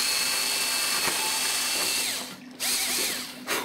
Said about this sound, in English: I'm going to drill a hole straight through